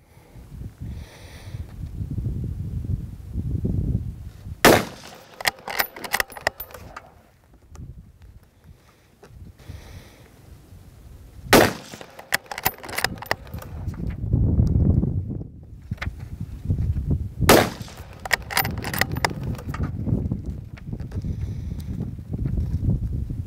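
A .204 Ruger cartridge fired from a Kimber 84M Varmint rifle outdoors, three sharp, loud cracks about six seconds apart, each with a short ringing tail, over a background of wind and handling noise.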